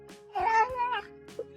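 A cat produces a drawn-out, voiced meow-like vocalization lasting about a second, followed by a shorter chirp, close up in a quiet room with no human speech.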